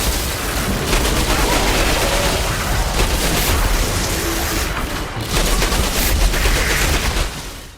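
Sustained gunfire from a gunfight in the shooter Outriders: dense, loud automatic fire and explosions rolling continuously with almost no pause, brief dips before the barrage resumes.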